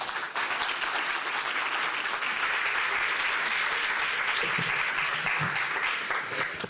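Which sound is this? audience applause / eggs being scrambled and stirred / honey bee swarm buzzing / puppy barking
audience applause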